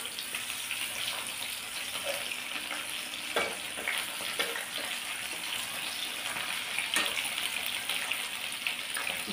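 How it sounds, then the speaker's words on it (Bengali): Fish fritters (macher tel bora) deep-fry in hot oil with a steady close sizzle and crackle, broken by occasional clinks and scrapes of stirring, and no one speaking. "দু পিঠ উল্টে পাল্টে ভেজে নিয়েছি"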